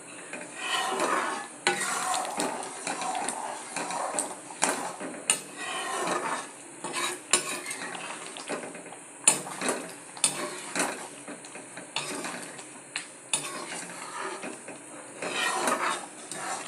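A utensil stirs and scrapes thickening tomato thokku around a pan over low heat in repeated irregular strokes, with soft sizzling and occasional metallic clinks, close and moderately loud.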